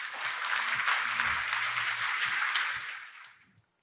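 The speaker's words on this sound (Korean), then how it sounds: "여러분 좀 박수로 환영 좀 부탁드리겠습니다." A conference audience at an AWS Summit in Seoul gives a burst of dense applause that holds steady and then fades out over the final second, with a little background speech mixed in.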